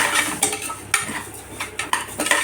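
A spoon stirs turmeric and cumin in a cooking pan for a wheat rava breakfast dish, giving close, intermittent scrapes and light metallic clinks against the pan.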